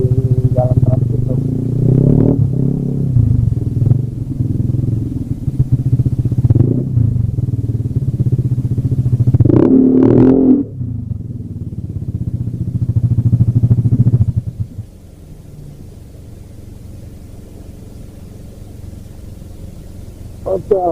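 Yamaha Aerox 155 scooter ridden along a trans road, its engine droning steadily up close with rising and falling revs and a gritty wind-blown rush, then dropping to a quieter idle-like hum near the end.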